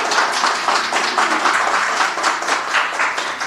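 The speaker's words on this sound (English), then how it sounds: "Give them a round of applause." An audience at a youth ambassador award ceremony gives a round of applause, sustained, dense clapping from many hands at an even level throughout, with no talking over it.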